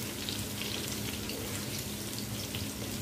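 Garlic sizzles in hot oil while greens are cooked Delhi restaurant style: a steady, close, crackling fry that stays even throughout, with no voices.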